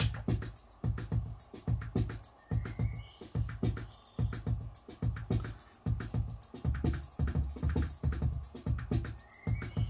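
A Boss DR-55 drum machine pattern repeats steadily with tight kick and hi-hat hits in a fast, even rhythm, loud and continuous throughout.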